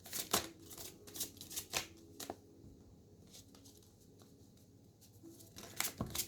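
Tarot cards being shuffled by hand, a series of close, crisp riffling and snapping bursts with scattered soft taps and slides, busier at the start and end with a quieter stretch in the middle, and no talking.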